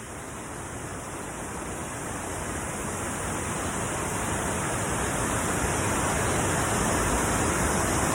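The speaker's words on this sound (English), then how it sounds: "This is truly magnificent waterfall." A steady, full roar of falling water at Lewis and Oxley Falls fills the whole stretch, loud and unbroken, swelling slightly as it goes on.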